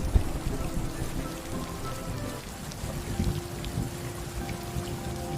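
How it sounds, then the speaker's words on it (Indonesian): Rain pours steadily onto a surface, a dense close patter with a constant low rumble and occasional louder splashes, fairly loud and continuous with no voices. "Selagi menunggu hujan reda, Jia memanfaatkan waktunya untuk berkreasi."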